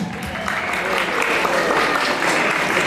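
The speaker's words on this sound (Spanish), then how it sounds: "un fuerte voto de aplauso" Warm applause from guests at a quinceañera celebration, a dense continuous roar of clapping hands sustained throughout at close, even volume.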